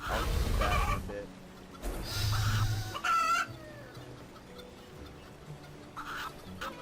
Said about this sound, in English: I just realized something when I was killing these chickens.